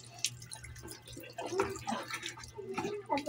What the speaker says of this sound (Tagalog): Sige pa, ugas pa. Buhos pa, Hyper.